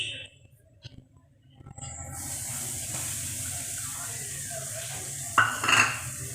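Ragi flour being dry-roasted and stirred in a pan over a medium flame: after a quiet start, a steady soft scraping sizzle runs to the end, with a brief louder clatter of utensil on pan near the close.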